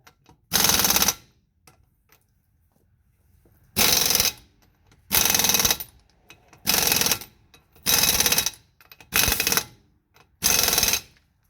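A worn pneumatic impact gun hammers on an outer tie-rod of a 2003 Chevy Express G3500 6.0L van, seven loud rattling bursts about a second long each, separated by short silences, close up with no speech.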